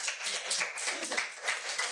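Audience at a school board meeting applauding a speaker, a dense, steady patter of many hands clapping at moderate distance for the full two seconds.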